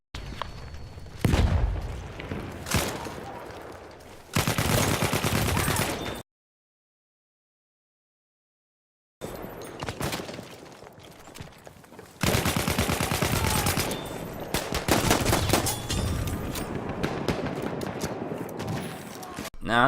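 Battlefield 1 team deathmatch combat in which an assault-class player's grenade blast mixes with dense rifle and machine-gun fire. Loud bursts and booms come in clusters, with a sudden gap of silence partway through.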